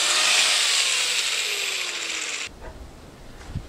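Angle grinder grinding metal on a Dragonslayer build, a modified narrow-head grinder working into a tight spot; a loud, steady abrasive whine that cuts off abruptly partway through, leaving faint clanks and room noise.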